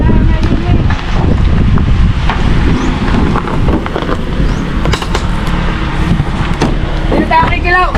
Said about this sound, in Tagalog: Lakas ng hangin eh, oh.